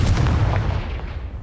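In the video game Hogwarts Legacy, a Confringo fire spell explodes with a loud, booming blast that decays over about a second and a half.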